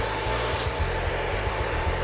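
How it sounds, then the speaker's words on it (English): A far infrared hair dryer blows steadily during a smooth straight blow-out, a constant airy whoosh with a low pulsing hum, close and loud, with a voice speaking over it. "This dryer utilizes far infrared heat."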